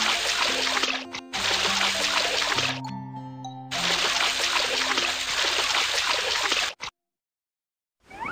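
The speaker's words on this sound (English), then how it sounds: "Splish, splash, make it clean." Cartoon water splashing and trickling as a sheep is washed in a children's farm game, steady bright splashes with a short musical jingle in the middle, then a brief cut to silence near the end.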